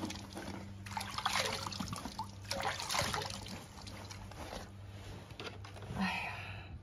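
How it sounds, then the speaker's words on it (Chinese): Water runs from a tap while someone washes their hands and face at home, a soft, steady trickle and splash with intermittent louder gushes, fairly quiet and close. "回来现在赶紧去洗洗脚、洗洗手、洗洗脸"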